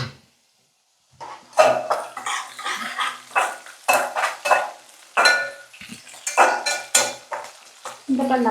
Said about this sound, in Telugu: ఇప్పుడు ఇందులో జీలకర్ర వేస్తున్నాను